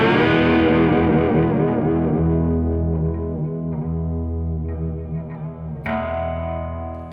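Electric guitar through heavy distortion, played alone and loud with a whammy bar bending the sustained chords so the pitch wavers and dives, ending in a sharp new strummed attack near the end.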